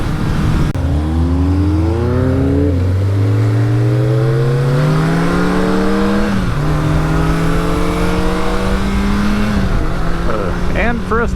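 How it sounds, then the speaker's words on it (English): Inline-four motorcycle with stock exhaust, Honda Nighthawk 700S or Yamaha Radian, revving up through several gears with rising engine pitch, brief drops at each shift, loud and close, throaty growl throughout. "this thing sounds really good. It's nice and throaty, and it has just a good inline four growl to it."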